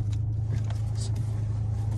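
A parked Volkswagen car idles with its engine running, giving a steady low hum that holds evenly from start to finish, fairly quiet and with no clear talk.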